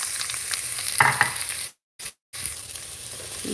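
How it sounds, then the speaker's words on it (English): Onions hit a hot pan and sizzle strongly and steadily up close, with a few stirring scrapes, broken by a brief moment of silence before the frying continues. "to throw onions in there"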